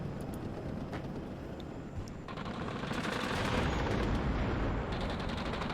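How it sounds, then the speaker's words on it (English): Artillery and mortar rounds exploding in the WARNO war video game, a dense, continuous barrage of booming blasts and rattling gunfire that swells louder after the first couple of seconds and stays heavy to the end. "Artillery rounds are coming."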